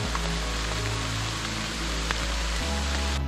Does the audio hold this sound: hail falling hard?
yes